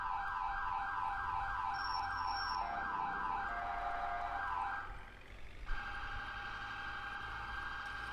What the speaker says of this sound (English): Sirens are accurate.